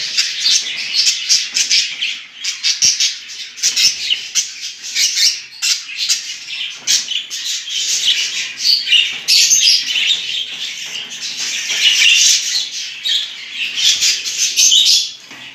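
Budgerigars kept at home for breeding chirp and squawk busily while eating boiled cracked grain, a dense, continuous chatter of many birds close by, with occasional wing flutters.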